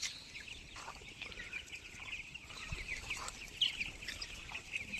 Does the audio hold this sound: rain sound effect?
no